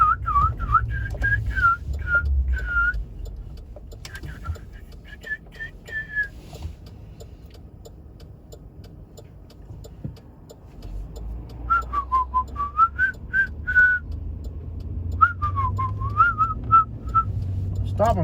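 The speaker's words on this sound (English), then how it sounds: "I'm just whistling." A person whistles a wandering tune in bursts of rising and falling notes, with a steady engine rumble underneath and a pause in the middle.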